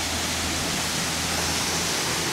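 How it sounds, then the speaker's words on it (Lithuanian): A mountain waterfall in Georgia, about 600 metres above sea level, gives a steady, unbroken rushing roar of falling water that holds even throughout, with no voices over it. "bet pamatėm dar ir krioklį"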